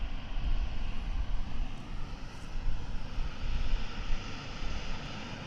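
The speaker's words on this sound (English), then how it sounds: "As we watch American Flight 1088, this is going to Colorado Springs, 737-800" American Airlines Boeing 737-800 engines at DFW Airport, a faint, distant, steady jet rumble with a gentle wash of noise that swells slightly and fades.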